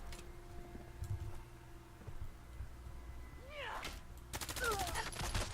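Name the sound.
minigun gunfire in the video game Fallout 4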